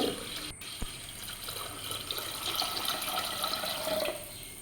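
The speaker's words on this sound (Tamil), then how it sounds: "இது கூட ஒரு கிளாஸ் அரிசிக்கு ஆனால் மூணு கிளாஸு தண்ணி ஆட் பண்ணிக்கிறேங்க" Water splashes steadily into a vessel of washed red rice for payasam, a soft continuous pouring and trickling sound, close and fairly quiet, with a brief clink near the start.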